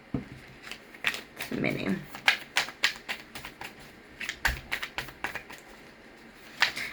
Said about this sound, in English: let's get a couple from this deck.